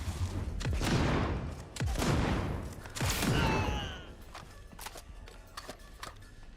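Heavy gunfire in the video game Cyberpunk 2077: three loud, booming blasts about a second apart, each with a long rumbling tail, followed by quieter scattered clicks and impacts.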